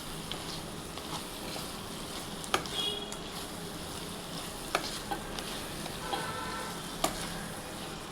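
Coconut, ginger and garlic paste fries in a pan with a soft, steady sizzle, and a few sharp clicks and scrapes of stirring cut in now and then. It stays fairly quiet and there is no speech.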